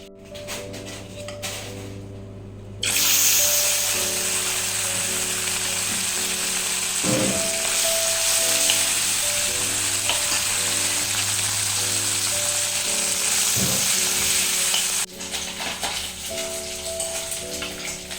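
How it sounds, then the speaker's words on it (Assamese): Small fish frying in oil in a pan, a steady close sizzle running throughout with faint clicks and clatters from the kitchen behind it, louder from about three seconds in and easing slightly near the end. "এয়া মাছ ফ্ৰাই কৰি আছোঁ। এয়া মাছ, এয়া সৰু মাছ, এইটো ফ্ৰাই কৰি আছোঁ।"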